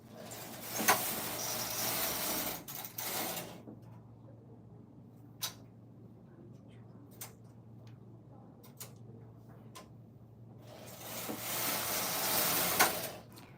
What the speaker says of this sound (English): Look at this action of our knitting machine. It's very smooth to pull the machine head,